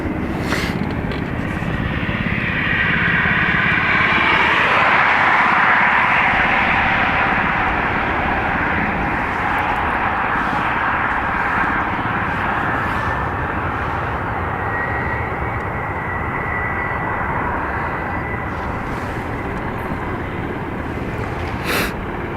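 A Ryanair airliner takes off from runway 28 right at Dublin Airport, a sustained loud jet roar that swells to a peak and then holds steady as it recedes, with no talk over it.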